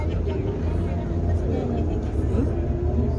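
Inside a Shivshahi bus travelling along a road, a steady, loud low engine and road rumble runs throughout with no breaks, with faint murmuring voices mixed into the drone.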